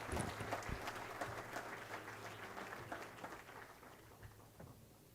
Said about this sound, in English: let's give Captain Parashar another round of applause